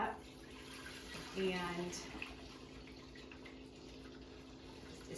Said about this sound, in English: So I just pour that right in my Instant Pot